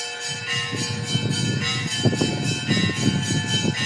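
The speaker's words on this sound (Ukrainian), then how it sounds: "Дзвонять дзвони." Church bells ring steadily on a village street during a holiday, a sustained metallic peal with repeated strikes, loud and without speech.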